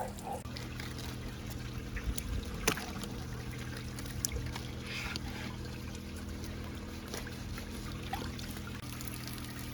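Water spills steadily from an aquaponics sump tank clogged with spinach roots, a continuous low trickle and splash with a few faint knocks and no talking.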